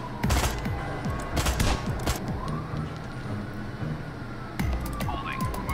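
Rapid bursts of gunfire in the tactical shooter Door Kickers, a busy run of sharp shots clustered early, then sparser cracks over a steady game background.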